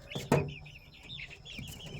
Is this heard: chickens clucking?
yes